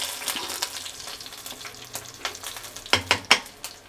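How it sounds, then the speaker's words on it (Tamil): Finely chopped small onions frying in castor and sesame oil in a pan, a soft steady sizzle with occasional stirring scrapes and a few sharp clinks near the end, close and fairly quiet, with no talking. "வெங்காயத்தை போட்டதுக்கப்புறம் நம்ம வதக்குறோம்"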